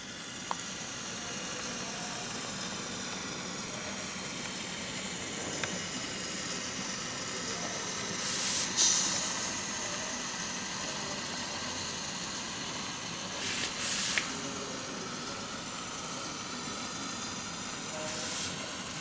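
A Kalka Shimla Railway train runs along a hillside loop, giving a steady, fairly distant engine rumble and hiss that goes on the whole time, with a few brief high squeals or whistles.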